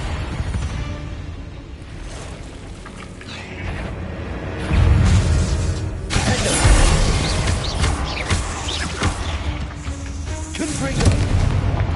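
Repeated fiery spell blasts from Hogwarts Legacy combat, several booming explosions with dense rumbling game noise, loud and continuous, with a heavier burst near the middle and a voice speaking intermittently over the action.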